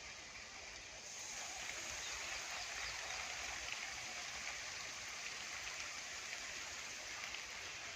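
A micro sprinkler irrigation line on farmland sprays water, a faint, steady hiss like light rain that switches on after about a second and then holds evenly.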